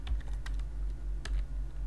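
Python code being typed on a computer keyboard: a quick run of close, crisp key clicks in an uneven rhythm over a low steady hum, with no speech.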